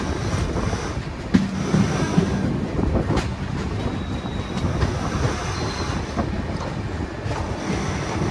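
A passenger train running on rails between Ringas and Ajmer in Rajasthan makes a loud, continuous rumble and rattle of wheels and carriages, heard from onboard with no voices.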